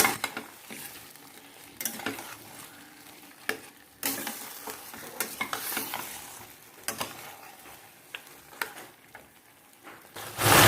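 Chicken marinated with salt, turmeric and cumin sautés in a pan, with scattered scraping stirs and soft clatters of utensil against metal over a faint sizzle, pausing in quiet stretches and ending on a louder scrape.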